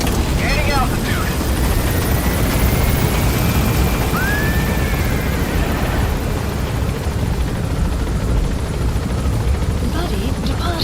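Helicopter in Metal Gear Solid V climbing with a loud, steady rotor roar that fills the scene, with a rising whine sweeping across and no letup throughout.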